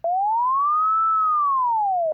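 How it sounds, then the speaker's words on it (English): A modular synth tone whose pitch an LFO sweeps slowly upward and back down in a single siren-like arc, steady and loud and alone, lasting about two seconds. "kind of sounds like a siren a little bit"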